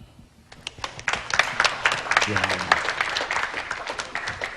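Men in a live stand-up comedy audience break into steady clapping that builds and holds, with a comedian's voice heard briefly at the start.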